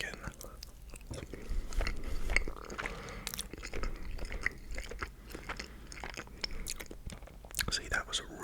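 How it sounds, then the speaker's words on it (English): Close, crisp biting and wet chewing of tender rotisserie chicken from Swiss Chalet, steady soft crunches and squishes repeating throughout with no talk. "Take another bite of chicken."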